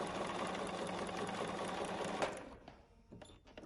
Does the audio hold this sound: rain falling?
no